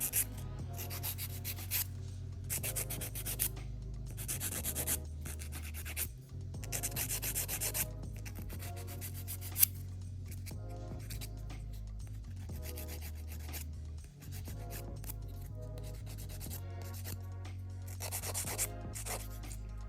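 Gel X nail extensions being filed and shaped to take bumps off the tips: steady, rhythmic scraping strokes of a nail file, close and continuous for about twenty seconds, with no talking.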